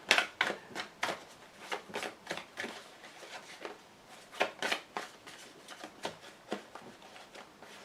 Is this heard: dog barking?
no